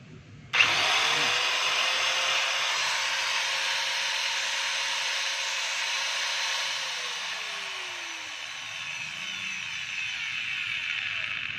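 A DeWalt DW810 4-inch angle grinder is switched on during a test after armature repair, and its steady high whine runs loud and close for about ten seconds before easing slightly.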